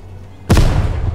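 Frag grenade in the video game Ground Branch detonates with a sudden loud, close boom, and the explosion rumbles and decays over a second after a quiet lead-in.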